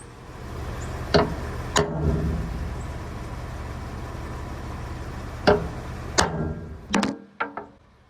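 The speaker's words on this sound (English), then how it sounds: "I'm just going to take a punch and go ahead and punch the new holes down" Sharp metallic strikes of a punch marking holes in steel plate ring out at irregular intervals over a steady engine-like rumble, a couple landing close together near the end.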